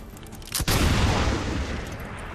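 A pistol shot in the video game XCOM 2 lands as one sharp crack followed by a heavy, rumbling boom that lingers and fades slowly.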